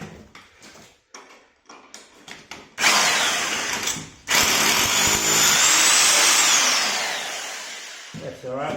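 A power drill bores into a thick rebar-reinforced concrete slab for Dyna bolts while a car hoist is bolted down, with short bursts giving way to a loud, sustained grinding run, a brief pause, and another long grind.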